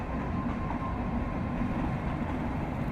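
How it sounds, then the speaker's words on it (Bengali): A steady low rumble of two trains running on rails at once fills the clip, continuous and moderately distant, with no voices. "ওই দুটো ট্রেন যাচ্ছে একসঙ্গে"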